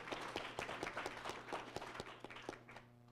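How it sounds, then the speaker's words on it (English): Faint, sparse clapping from an audience at a legal conference, with individual claps audible over a low steady hum, tapering off toward the end. "a big round of applause for this guy"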